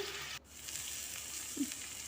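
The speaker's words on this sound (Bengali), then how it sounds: "মশলাটা ভাজার পর তেলটা চারিদিক দিয়ে ছেড়ে এসেছে" Soft, steady sizzle of a spice paste frying in oil until the oil separates, with a brief clink of a utensil near the end; no voices.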